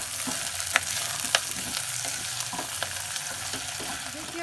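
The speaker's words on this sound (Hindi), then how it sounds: "अब एत 2टा हरियरका मिरचाई सेहो काट के से द देबे। 1 मिनट और एकरा भूज लेबे।" Chopped green chillies fry in a pan while pumpkin and potato kumhrauri cooks: a steady, close sizzle with scattered sharp pops and spits running throughout, without speech.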